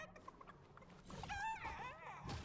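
Short bursts of Fortnite chicken clucking, quiet and somewhat busy, with warbling cackles rising in the middle.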